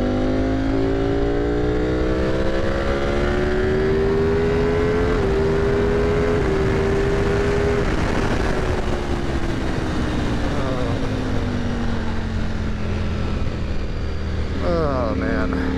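A motorcycle engine runs loudly and steadily throughout, its pitch rising and falling as it revs, with a deeper drone beneath; a voice speaks faintly near the end.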